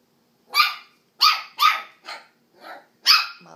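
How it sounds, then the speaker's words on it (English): A Westie puppy barks six sharp, close times in quick, irregular succession, with short silent gaps between the yaps. "That annoying bark."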